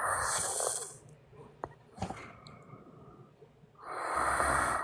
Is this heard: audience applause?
no